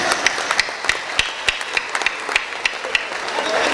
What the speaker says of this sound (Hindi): यहाँ तालियां आती हैं